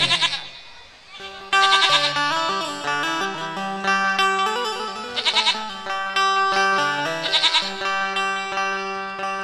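Repeated bleating of goats sounds over sustained tonal accompaniment in a Bhojpuri folk narrative song, with the bleats coming in loud bursts again and again.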